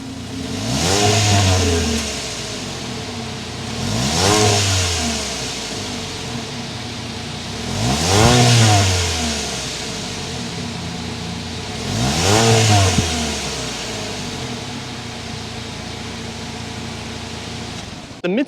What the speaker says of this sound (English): we still need to hear that exhaust note.